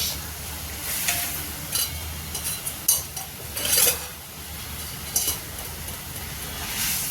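Two green chillies fry over high heat in a pan for karela fry, with a soft background sizzle broken by several scraping stirs and clinks of the spatula against the pan, and no talking.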